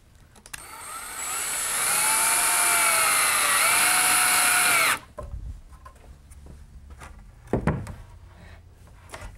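A power drill drives screws through a board into a shelf in one steady, loud whine lasting about four seconds, then stops; a few knocks and handling clatters follow.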